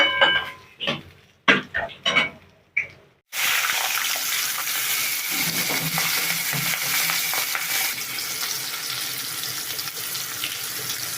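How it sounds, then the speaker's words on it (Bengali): Katla fish pieces fry in a pan, a loud, steady hiss and crackle that runs on without a break after a few short clinks and splashes at the start. "আমি মাছগুলো এক এক করে ভেজে নিই"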